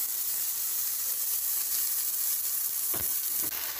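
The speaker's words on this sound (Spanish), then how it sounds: "ya esté caliente, agregamos nuestra mezcla de tomate y cebolla" A tomato and onion mixture fries in a hot pan with a dense, even sizzle that holds steady throughout, with a couple of soft stirring knocks near the end.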